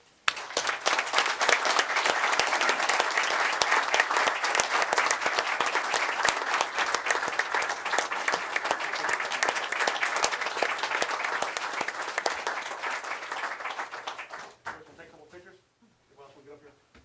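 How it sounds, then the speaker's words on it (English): A seated audience at a county commissioners' regular meeting in Calvert County, Maryland breaks into sustained, dense applause that holds steady for about fourteen seconds before thinning out and stopping, followed by a faint voice. "let's give them a round of applause"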